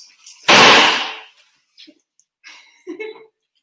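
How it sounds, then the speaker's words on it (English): Fireworks going off outside during a bar mitzvah celebration carry indoors as one loud, close burst that decays over about a second, followed by faint scattered pops and a brief voice-like sound. "I didn't think the fireworks would make their way inside, but evidently they did at the end"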